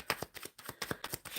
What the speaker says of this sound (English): Shuffling, giving a good shuffle before I start going through the questions.